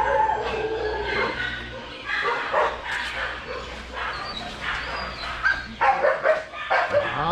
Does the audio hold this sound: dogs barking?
yes